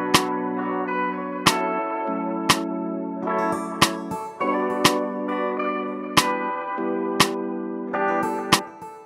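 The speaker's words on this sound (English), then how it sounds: "I'm pretty sure I started off with like the rim," Sharp rim clicks in an afrobeats beat built in Logic Pro X, striking at a loose, syncopated pace over sustained warm synth chords, with no voices.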